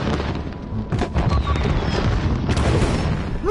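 Remote-detonated explosion in the video game Hitman, a dense rumbling boom that fills the clip, loud and sustained with a sharper burst near the end.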